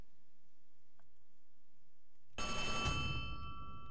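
After a quiet stretch with a couple of clicks, a ringing telephone in the Poppy Playtime horror game bursts in loudly near the end and keeps sounding.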